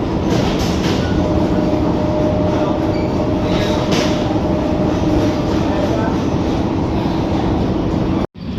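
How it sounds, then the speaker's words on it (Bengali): An air-conditioned local train on the Sealdah–Kalyani line arrives at Sodepur station, rumbling loudly and steadily with a rattling rolling rhythm and a faint whine, then the sound briefly cuts out near the end. "ট্রেন এসে পৌঁছালো সোদপুর স্টেশনে।"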